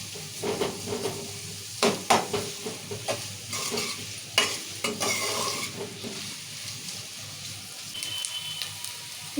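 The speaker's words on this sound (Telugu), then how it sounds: "చికెన్ కర్రీకి ఉల్లిగడ్డలు ఎర్రగా మగ్గితేనే" Onions frying in a pan for chicken curry, a steady sizzle broken by repeated sharp scrapes and clatters of stirring, close and fairly loud, with no voices.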